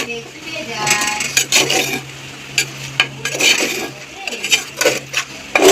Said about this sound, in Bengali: অল্প করে মাংসটা দিয়ে একটু নেড়ে নেবো